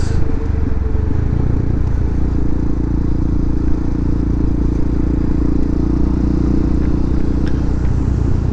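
Steady roar of a motorcycle riding at speed on a highway with loud engine drone and wind rumble, constant throughout, no voices.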